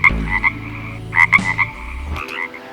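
A frog croaks in several loud, close bursts of rhythmic, rattling calls, with short pauses between them and no other sound.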